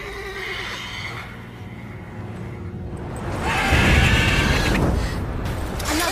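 A horse neighs loudly in The Witcher 3 as a mare is won in a wager, a long whinny rising over game ambience and rumbling background sound, swelling in the second half.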